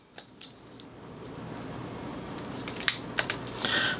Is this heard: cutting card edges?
yes